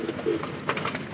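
Several pigeons of a home-bred flock flutter and coo close by, with soft wingbeat bursts and low cooing calls over a short stretch.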